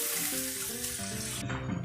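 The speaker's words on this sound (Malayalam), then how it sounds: "വെള്ളം ഒഴിച്ച് കൊടുക്കും." Water poured into a pot of rasam in a Kerala kitchen, a steady close splashing pour that runs continuously for about two seconds with no talk.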